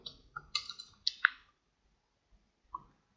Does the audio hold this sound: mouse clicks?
yes